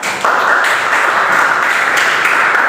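A room full of people at a group presentation breaks into loud, dense applause, a sustained close wash of many hands clapping at once that holds steady throughout.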